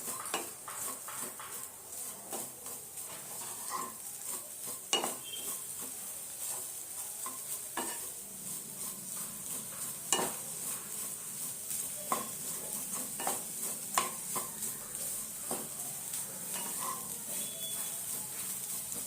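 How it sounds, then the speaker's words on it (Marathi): Jaggery melting with grated coconut in a pan while being stirred, a faint steady sizzle and hiss punctuated by irregular light clinks and scrapes of a spoon against the metal, quiet and with no talking. "गूळ याच्यामध्ये आपल्याला छान मेल्ट करायचं आहे."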